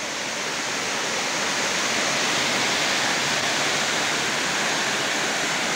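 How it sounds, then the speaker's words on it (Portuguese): A loud, steady roar of rushing water from a nearby underground waterfall, unbroken throughout with no voices. "E aqui então a cascata,"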